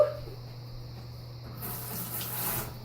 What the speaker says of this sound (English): I'm going to do a little rinse off.